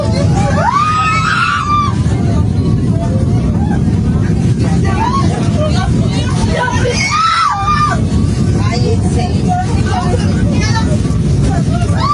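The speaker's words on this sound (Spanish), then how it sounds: "Los pasajeros así gritaban de pánico." Airplane passengers screaming in panic aboard a flight buffeted by a violent windstorm while trying to land at Barranquilla's Ernesto Cortissoz airport, several voices crying out over a loud, constant engine and cabin roar, with frantic overlapping shouts throughout.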